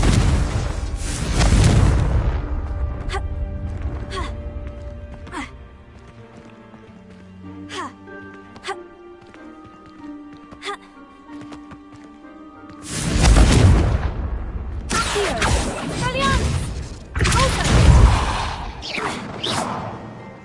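Confringo fire spell blasts in Hogwarts Legacy, a loud booming burst with whooshing rush at the start and again later, separated by quieter magical chimes and hits, with voices speaking over parts.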